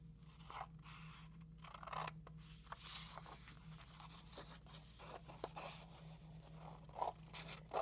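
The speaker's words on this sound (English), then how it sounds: "You are only going to cut in from the side, each side," Scissors snip into folded paper from each side for a school craft project, quiet close crunching cuts and scrapes repeating irregularly over a low steady hum, with no talk.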